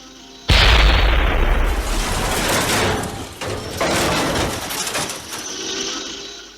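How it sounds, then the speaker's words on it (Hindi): A destroyed enemy tank explodes in a battlefield fight, a loud sudden boom followed by several seconds of heavy rumbling blast and crackling debris that slowly fades. "सेकंड लेफ्टिनेंट अरुण ने अपने टैंक की रफ्तार तेज कर उनका पीछा करना शुरू किया और दुश्मन के एक टैंक को नष्ट कर दिया।"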